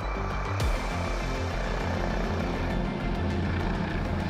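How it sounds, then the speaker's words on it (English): The Magpas air ambulance helicopter flies overhead with a loud, steady rotor and engine roar that continues unbroken, with no voices. "The helicopter flies at speeds of greater than 160 miles per hour."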